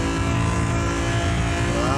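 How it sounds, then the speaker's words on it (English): Car engine in Car Mechanic Simulator 2021 holds a loud, steady high-revving drone at speed, tonal and continuous throughout, with no voices over it. "Can you hear me over the noise of this engine?"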